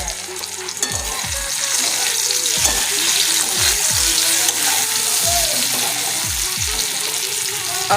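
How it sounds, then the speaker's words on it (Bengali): Pumpkin pieces fry in a pan in a home kitchen, giving a steady, close hiss of sizzling oil. Repeated scraping stir strokes of a spatula cut through it, and the sizzle carries on with no talk. "এই যে কুমড়োটা এখন ভাজা চলছে আমার"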